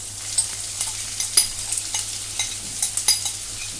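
Chopped onions sizzle in hot oil for a Sindhi-style fenugreek pulao. The close, steady frying hiss is broken by soft scraping strokes and brief clicks of stirring.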